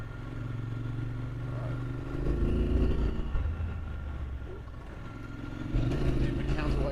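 Triumph Scrambler 1200 XC motorcycle ridden off-road on gravel and dirt, its engine a steady low rumble that swells as the throttle opens, with wind and clatter mixed in and a rider talking over it.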